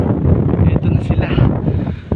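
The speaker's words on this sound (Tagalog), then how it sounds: "Sarap ng hangin." Strong wind buffets the microphone in a steady low roar throughout a bicycle ride, with a voice faintly audible underneath.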